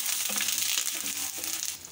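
Dal, green chili and curry leaves sizzle in hot oil in a pan, a close, quiet crackling hiss with small spits and stirring scrapes, steady throughout.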